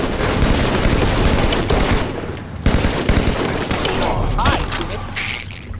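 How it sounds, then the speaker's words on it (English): Rapid automatic gunfire and heavy bursts in a tactical shooter raid rattle loudly in close, dense volleys, with a short lull midway before the firing resumes. Players talk over the shooting. "Someone was shooting at Deja"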